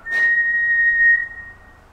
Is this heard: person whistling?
yes